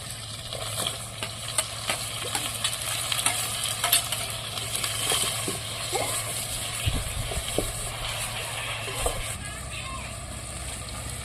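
Chopped tomatoes land in ginger paste frying over a wood fire for a dry fish curry. A steady crackling sizzle with scraping stirs runs throughout over a low constant hum, with faint voices in the background.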